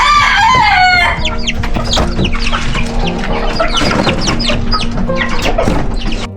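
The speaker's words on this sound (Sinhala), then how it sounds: "මගේ පහම කුකුලා" Chickens on a small village home farm, among them an old rooster of the Asil line, cluck densely and continuously after a drawn-out crowing call at the start; loud and close, with no talking.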